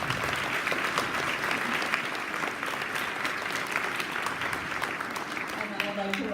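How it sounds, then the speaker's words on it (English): An audience at a Sunset Hill D.A.R.E. graduation ceremony applauds the students with dense, sustained clapping that holds steady for the whole stretch, heard from within the room. "I just want to do one more round of applause for them"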